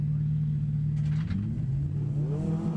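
Drift car engines roar in a loud, steady rumble, with revving rising in pitch as the cars launch from the start line at a drift competition at Driftland.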